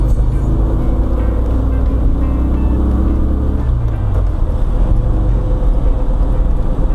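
Steady rumbling idle of a 1972 VW Karmann Ghia engine, close and loud, continuous throughout with a slight change in tone partway through.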